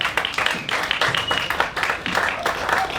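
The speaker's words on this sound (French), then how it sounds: "Je vous demande d'applaudir bien fort, s'il vous plaît, Pouerani" An audience at a Miss Tattoo Polynésie event gives loud, dense applause throughout, with many hands clapping close by and a murmur of voices underneath.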